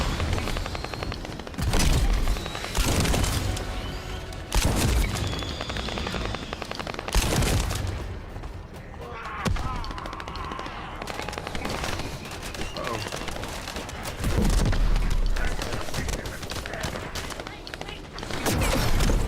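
Heavy gunfire and booming blasts from the shooter The First Descendant, with repeated loud shotgun-style reports and rattling bursts through most of the stretch, under intermittent talking.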